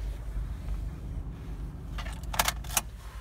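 A few sharp metallic jingles of car keys and remote fobs for a one-owner 2007 Honda Civic, brief and close, rising over a low background rumble.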